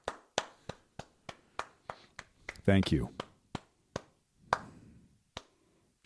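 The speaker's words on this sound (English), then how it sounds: "I don't like it when claps trail off like that" A small audience claps sparsely and unevenly, isolated sharp claps spaced out and thinning toward the end, with a brief spoken thanks in the middle.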